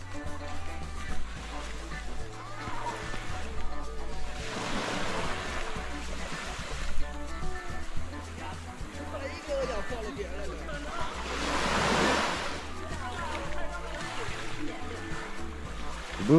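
Waves wash in and recede on a beach at Wayag, Raja Ampat, in slow surges, with wind noise and people talking nearby.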